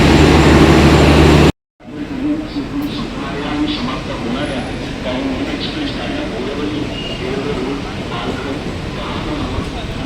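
The Saurashtra Janta Express, hauled by an electric locomotive with a generator car, pulls away from Bandra Terminus after a delay, giving a steady, fairly loud rumble while a person talks over it.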